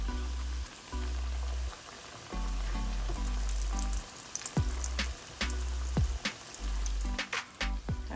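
Jamaican fried dumplings fry in oil in a saucepan, giving a quiet, steady sizzle broken by brief pauses and light clinks as they are moved around.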